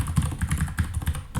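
Rapid, uneven typing on a computer keyboard while writing TypeScript code, a steady run of close clicky keystrokes with no talking.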